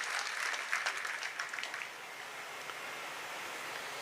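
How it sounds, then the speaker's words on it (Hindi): Crowd applause welcoming guests at an outdoor political rally, a dense wash of clapping that is fuller at first, then settles into a softer, steady patter. "आप सबकी ओर से जोरदार तालियां बजाकर एक बार इनका स्वागत करें।"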